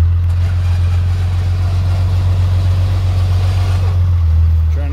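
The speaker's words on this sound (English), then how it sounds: "Drive, winch." A vehicle engine runs steadily and loud close by, idling with a constant low rumble while being winched, revving slightly near the end.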